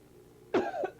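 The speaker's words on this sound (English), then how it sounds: "Excuse the cough." A single close cough followed by two short throat-clearing bursts, loud against near silence.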